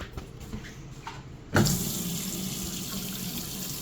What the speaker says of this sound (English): Make sure that we have good water pressure coming out from everywhere.